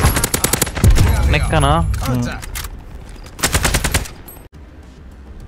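A machine gun fires in a first-person shooter game, rapid bursts of close, loud shots in two main volleys with a brief pause between, while a player talks over the gunfire.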